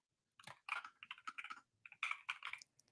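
Quiet typing on a computer keyboard comes in two short bursts of rapid clicking keystrokes separated by a brief pause, close and fairly soft.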